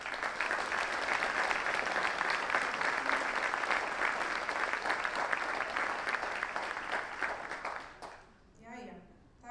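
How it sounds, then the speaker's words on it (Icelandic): An audience in a school hall applauds graduates at a Menntaskólinn á Egilsstöðum graduation ceremony, steady dense clapping for about eight seconds before it stops abruptly and a voice begins speaking. "Skulum gefa þeim öllum gott klapp"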